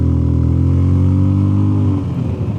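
A Zontes 368G ETC V2 motorcycle accelerates in touring riding mode, its engine note rising steadily and loud and close, then roughening and easing off toward the end.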